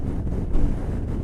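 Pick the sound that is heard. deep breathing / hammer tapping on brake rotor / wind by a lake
wind by a lake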